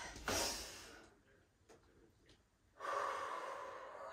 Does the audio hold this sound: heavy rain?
no